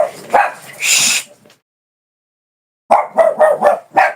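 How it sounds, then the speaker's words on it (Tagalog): Several dogs bark in loud bursts, a cluster of sharp barks at the start, then a pause of silence, then a rapid run of five close, loud barks. "yun na yung mga aso"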